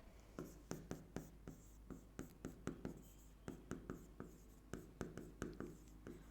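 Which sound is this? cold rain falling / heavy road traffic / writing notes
writing notes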